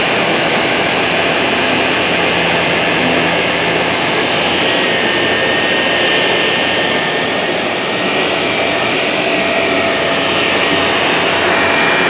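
A Shark Lift-Away vacuum cleaner runs on carpet, its airflow a loud, steady, high-pitched whooshing roar with a faint whine, continuous and close throughout.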